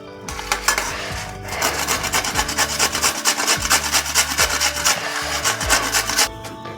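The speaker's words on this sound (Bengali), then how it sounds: "এইবারে আমি বিট, গাজর আর আলুটা গ্রেট করে নেব।" Beetroot, carrot and potato are grated on a hand grater, a loud, close, rhythmic rasping of quick repeated strokes with short pauses between runs, with no talking.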